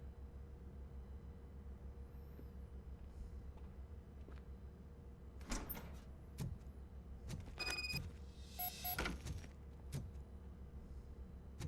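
A door opens in the RoboCop: Rogue City video game: a few sharp mechanical clunks and a brief whirring burst rise mid-clip over a steady low game hum, with no talking.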